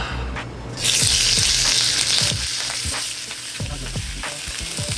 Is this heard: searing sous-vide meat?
yes